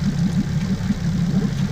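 Outboard boat motor running during flushing and rinsing after sea use, a close, loud, steady low throb with a fast pulsing rhythm.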